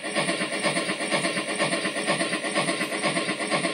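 Rapid rhythmic chuffing comes from a BlueRail model steam locomotive sound system at speed step 8. The beats are close, regular and continuous, with no voices.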